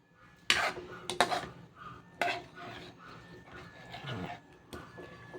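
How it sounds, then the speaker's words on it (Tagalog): A utensil scrapes and clanks against a pan while Bicol express with fried milkfish, coconut cream and chili is stirred, giving a few sharp metallic knocks followed by softer intermittent scraping at close range. "Haluin na lang po natin para wag kumulta."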